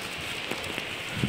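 Heavy monsoon rain pours down steadily on a forested Konkan hillside, a dense, continuous hiss of drops with no voices.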